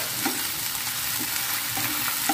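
Onion stirred in a pan with ginger and garlic paste for a fish curry, giving a steady close sizzle with soft intermittent scraping strokes throughout.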